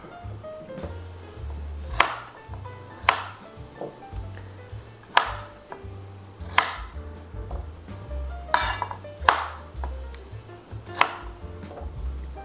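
A knife chops the ends off carrots on a cutting board, landing about nine sharp, evenly spaced thuds with a faint clink between them. Nearby and fairly quiet, with no talk.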